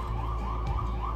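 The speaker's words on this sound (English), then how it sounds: "Not the police sirens outside." A police siren wails continuously at a steady volume, sounding from outside in the Bronx, with a low rumble beneath it.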